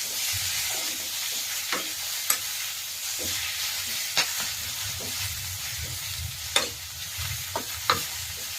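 Village-style spinach (palak) fries in a pan for sambar with a steady close sizzle, broken by occasional sharp clicks and scrapes of stirring.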